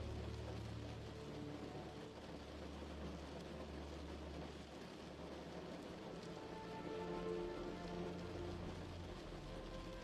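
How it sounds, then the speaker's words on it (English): Steady rain falls with drops pattering on a window, a dense, even wash of soft hiss and patter that continues without pause. "the gentle sound pattern of water droplets affirm your every relaxing sensation"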